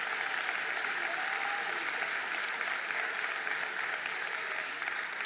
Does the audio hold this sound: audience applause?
yes